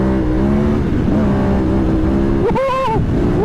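A KTM or Husqvarna adventure motorcycle accelerating hard in third gear while lifting into a wheelie, its engine note droning steadily, then surging sharply upward in pitch near the end, loud and close with wind noise.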